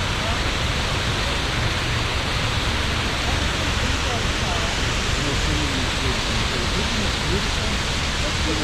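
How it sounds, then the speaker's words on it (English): Niagara Falls at the state park roars as a loud, constant broadband rush of falling water, a thick unbroken wash of sound heard from nearby. "That's the Niagara Falls."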